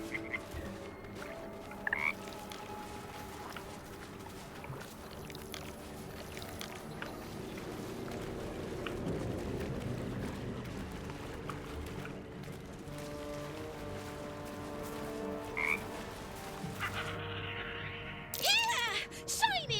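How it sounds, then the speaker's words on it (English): Frog croaking inside the fantasy game Baldur's Gate 3, a repeated soft call set against layered ambient game music and environmental sounds, with voices speaking at times. "So follow the frog."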